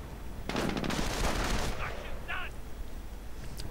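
Bursts of rapid gunfire and explosions from a war strategy video game, a dense volley up front followed by shorter crackling shots, with no talk over them.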